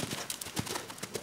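Horse hooves clip-clop during a jumping run, several sharp close hoof strikes in an uneven rhythm with a faint breathy background.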